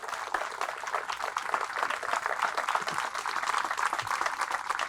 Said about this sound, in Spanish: Fuerte ese aplauso a nuestra Madre Santa